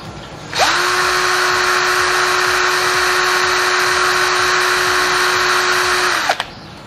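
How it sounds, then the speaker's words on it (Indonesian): A Worksite CD306-12L-C 12V cordless drill driver runs on speed setting 2, around 1457 RPM, giving a loud, close, steady whine that starts abruptly, holds for about six seconds and cuts off sharply, with no talking. "Di kecepatan nomor 1 391 RPM, kita ubah ke kecepatan nomor 2."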